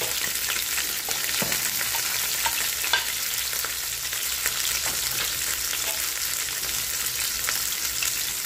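Onion, garlic and tomato frying together in a pan, a steady dense sizzle with faint crackles and occasional stir clicks, continuous and fairly loud.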